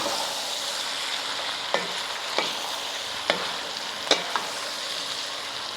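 Beef and bacon tossed with salt and pepper in a casserole dish, giving a steady soft sizzle with a few sharp stirring scrapes and clinks spaced through it, close and moderately loud.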